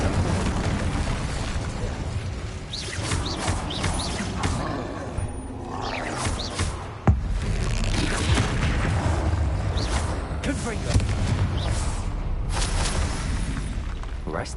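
In Hogwarts Legacy on PS5, an Incendio fire spell is cast amid combat, producing loud rumbling bursts of flame and whooshes over a dense, continuous game soundscape with one sharp impact midway.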